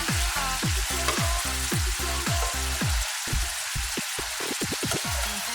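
Pork liver fries in a pan for adobo, giving a steady loud sizzle throughout, while a spatula scrapes and knocks against the pan in a repeated rhythm.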